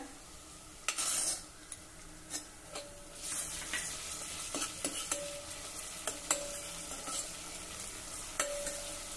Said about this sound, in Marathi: कांदा, आलं, लसूण आता छान हलक्या तांबूस रंगाचा होईपर्यंत आपण परतून घेऊ